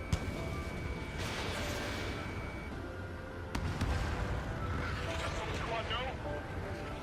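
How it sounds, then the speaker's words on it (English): Bombing explosions and gunfire rumble through an Ace Combat air-combat mission: a steady, loud roar with dense crackling, then a sharp blast midway and heavier bursts after it. "They're bombing us."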